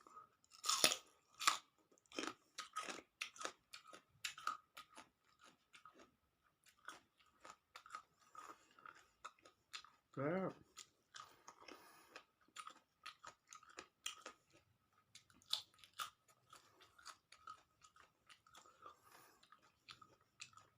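Steamed squid with seafood dipping sauce is chewed up close, a quiet run of wet, sticky chewing and soft crunching bites repeating over about twenty seconds.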